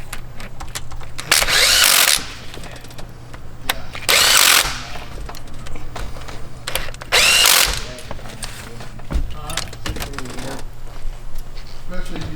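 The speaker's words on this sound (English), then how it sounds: "Tightening oil pan bolts." A power tool tightens oil pan bolts on a Corvette C6Z in a garage, three loud bursts of whirring and rattling with pauses between them, with quieter shop noise and talk around them.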